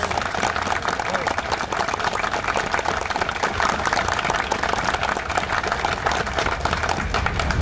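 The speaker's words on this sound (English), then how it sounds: "Let's give them a round of applause, please." Audience applause for the 218th Brigade of the National Guard, a dense, steady wash of clapping lasting several seconds with a busy crowd texture throughout.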